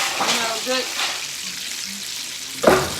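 Chicken thighs frying in a pan, a steady close sizzle under faint background voices, ending in a sharp clatter as a utensil hits the pan.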